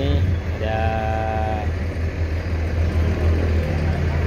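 A train waits at a station before departing for Sumatra, with a loud rumbling engine throughout and a short horn blast early on, heard close.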